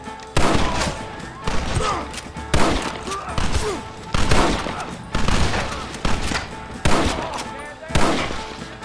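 Shootout gunfire in Red Dead Redemption: loud, close shots repeat in a steady rhythm roughly every second, mixed with echoing reports and distant firing, with shouting voices underneath.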